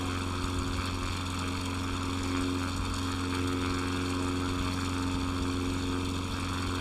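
Steady propeller airplane engine drone in a flight simulator game, flying a group flight over Klamath and Crater Lake in Oregon, with a constant low hum and tonal bands holding evenly throughout, no voices.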